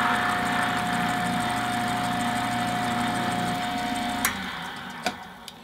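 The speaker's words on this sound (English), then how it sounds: "we're just going to turn the machine on, and we run our edge down the wax part first" A leather edge burnishing machine runs with a steady motor hum and a faint whine, then cuts off near the end, leaving a few sharp clicks and taps.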